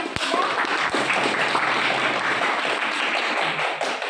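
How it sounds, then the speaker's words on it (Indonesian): Classroom applause for two students, Willy and Revan, steady dense clatter of many hands lasting the whole stretch, fairly loud and close with a few sharper individual claps standing out. "tepuk tangan buat Willy dan Revan"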